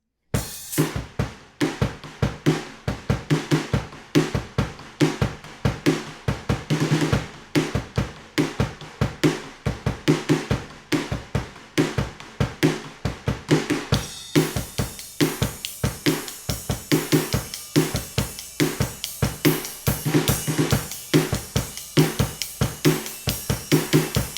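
A drum kit plays the quieter chorus of a song, a steady driving groove of regular kick and snare hits with cymbals, growing brighter and more crash-heavy in the second half, played alone without talk.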